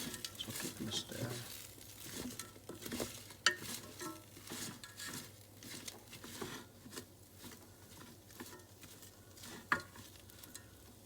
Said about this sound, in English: the chips look brown on the edge, so I think these just need a few more minutes. So I'll give them a stir.